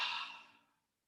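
A person yawns during a guided relaxation exercise, a single drawn-out breathy exhale that starts full and fades away over about a second, alone and fairly quiet.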